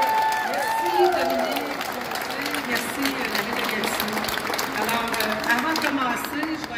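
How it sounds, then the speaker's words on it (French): Clapping from the audience at an art exhibition opening in a Gatineau gallery, a crowd applauding steadily at moderate distance while a voice talks over it. "sous une main d'applaudissements"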